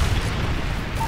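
A Predator missile strikes in Call of Duty Modern Warfare 3 multiplayer, producing a loud, sustained low rumbling blast that fills the short moment with a dense boom.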